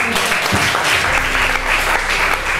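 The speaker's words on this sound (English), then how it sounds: "give a big applause" Classroom applause from students during a lesson, a dense steady clapping that fills the room at close range and continues evenly throughout.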